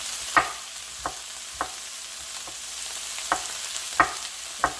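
Asparagus sauteing in a pan, a soft continuous sizzle punctuated by regular sharp clicks of a utensil stirring against the pan, about once every half second to second.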